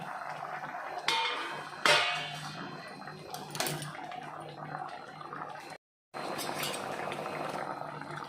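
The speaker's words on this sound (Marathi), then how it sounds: "आपण झाकण काढून जरा थोडं ढवळून घेऊया" A pot of Maharashtrian mackerel (bangda) curry bubbles as its lid comes off with a clatter, followed by a few scraping stirs and metallic pot clinks, then a brief silence before the soft simmering resumes at close range.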